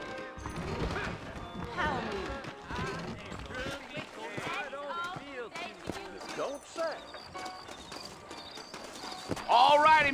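Horse hooves clip-clop steadily in the Western video game Red Dead Redemption, a saddled mount moving at a walk beneath continuous dialogue and background music.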